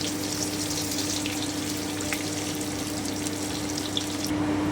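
Chopped onions frying in a pan for prawn kalia, giving a steady, soft sizzle with a low hum underneath, heard alone with no talking.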